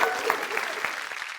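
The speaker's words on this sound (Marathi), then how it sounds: "एकदा जोरदार टाळ्या" An audience at a televised women's game show applauds in a short, brisk round of clapping, moderately loud and fairly even, fading a little as it ends.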